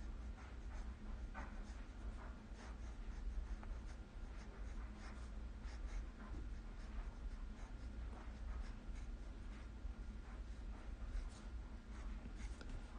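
A pen writes cursive on paper. The scratching strokes run steadily and close up, quiet under a low background hum, with no talking.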